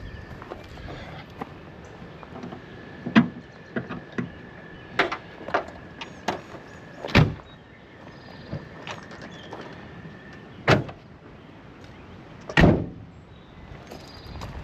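Van doors slam shut at a campsite, three loud, sharp thuds at uneven intervals among quieter clicks and knocks.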